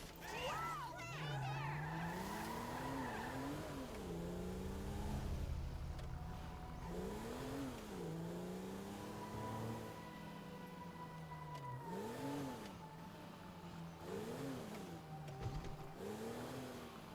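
A car driven around a city block in GTA V hums along with repeated engine revs rising and falling as it accelerates and brakes, plus a brief tire squeal, all heard beneath characters talking.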